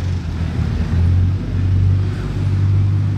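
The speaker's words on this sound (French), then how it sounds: "Tellement ouf une Chiron, mais la résonance, je vous raconte même pas." Deep, resonant engine rumble of a Bugatti Chiron at night in Monaco, a steady low drone that swells twice as the revs build, loud and close with no talking.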